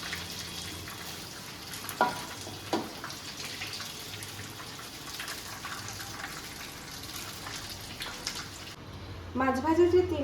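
Fish sizzles in hot oil in a pan for restaurant-style chili fish, a steady close crackle with a few louder pops and a voice speaking near the end.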